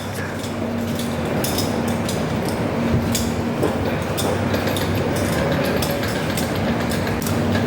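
The six-car Soekarno-Hatta airport train runs along the track with a loud, steady rolling rumble broken by repeated rail clicks, close and continuous, with no voices.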